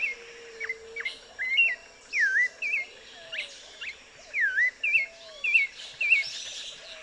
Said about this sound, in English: A clay-colored thrush, one of the coastal cousins of the American robin of the Sierra, sings from the top of a palo mulato.